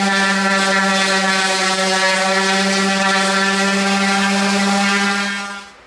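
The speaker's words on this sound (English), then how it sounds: "We're going to take that off and sand it all the way around" Power sander working on a maple and plywood floating shelf, a steady loud motor drone with a strong tonal hum running unbroken for several seconds before winding down at the end.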